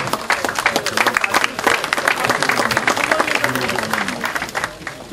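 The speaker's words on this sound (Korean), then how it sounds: "자, 뜨거운 축하의 박수를 부탁드리겠습니다." Warm applause from a crowd at a Korean party floor leader election ceremony during a flower presentation, many hands clapping briskly and steadily for several seconds, fairly close and loud before gradually thinning.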